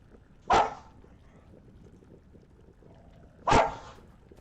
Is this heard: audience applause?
no